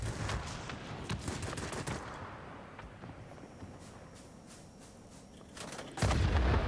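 Aircraft guns firing in a flight combat game with a Yak fighter, rapid bursts of gunfire at moderate distance over steady engine drone, ending in a louder, heavier burst.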